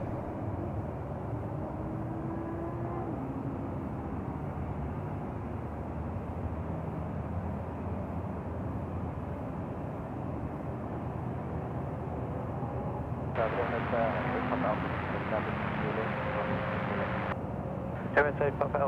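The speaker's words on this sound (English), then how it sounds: "Next, coming into land, Jetstar 959 here from Cairns. A321 now on finals." A Jetstar Airbus A321 on final approach to land at Sydney Airport produces a continuous broadband roar. It swells and brightens into a louder burst near the end.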